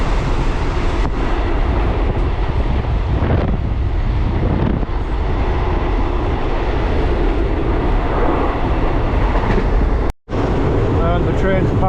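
A packed third-class train running from Bangkok to Nong Khai: loud, steady rumble and rattle of the carriage with wind noise throughout, a brief sharp dropout near the end, and passengers talking underneath.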